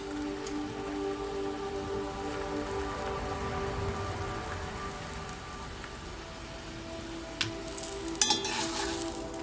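Tortillas for enchiladas fry in a shallow layer of oil in a pan, giving a soft, steady crackle and sizzle like light rain, with a few sharper clicks near the end; no one talks.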